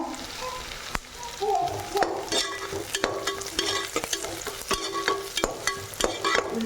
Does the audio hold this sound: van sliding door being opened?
no